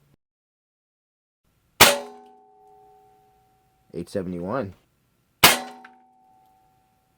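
A Hatsan Vectis lever-action PCP air rifle fires heavy 21-grain Barracuda match pellets in two sharp cracks with a ringing metallic tail, separated by a brief electronic chirp from a chronograph; a voice speaks a short number between the shots.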